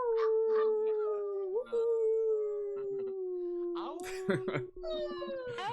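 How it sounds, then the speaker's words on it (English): Online meeting participants howl together through unmuted microphones, several overlapping, wavering dog-like wails layered over each other, with yips and voices breaking in near the end. "I can hear the live chat howling as well."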